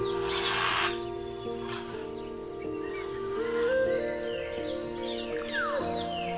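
In Amazon rainforest habitat, a blue and yellow macaw (Ara ararauna) gives harsh, raspy squawks over a dense layer of forest birdsong and music-like tones.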